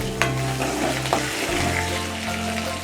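Ingredients sizzle steadily in hot oil in a pan while raw mango rava pulihora is cooked, a continuous close frying hiss broken by a couple of sharp stirring clinks.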